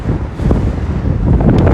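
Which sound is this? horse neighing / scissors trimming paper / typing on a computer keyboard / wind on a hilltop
wind on a hilltop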